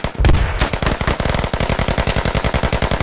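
Rapid, sustained machine gun fire from the military shooter game Squad, loud and close, with a brief heavy burst at the start followed by steady bursts of rhythmic automatic shots throughout.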